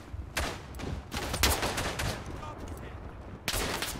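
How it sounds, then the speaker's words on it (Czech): Machine gun fire and battle noise in the World War I shooter Verdun, several sharp bursts of shots separated by short gaps over a steady rumble of combat. "Je tady kulomet."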